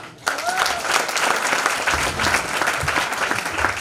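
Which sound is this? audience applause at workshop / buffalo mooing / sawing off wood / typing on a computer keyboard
audience applause at workshop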